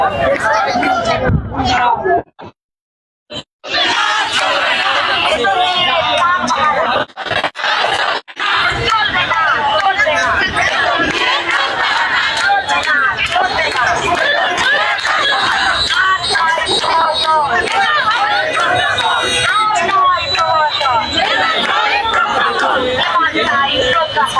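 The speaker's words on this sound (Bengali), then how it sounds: "তারা আজকে ঠিক সচিবালয়ের যে অভিমুখে সেই অভিমুখে যাত্রা করছেন এবং বিভিন্ন ধরনের যে স্লোগান সেই সেই স্লোগান দিচ্ছেন" Protest march in Bangladesh heading toward the Secretariat, demanding government funding for schools for disabled children: a dense crowd of voices chanting and shouting almost continuously, close and loud, with a couple of brief drops into near silence early on.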